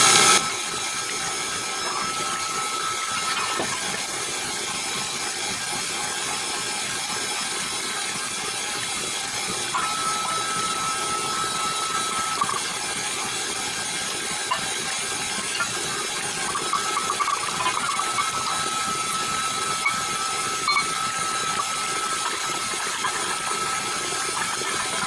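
A cheese ball mixture for a snowman-shaped cheese ball is mixed with a steady mechanical whir that runs unbroken for the whole stretch, with small clicks and knocks scattered over it.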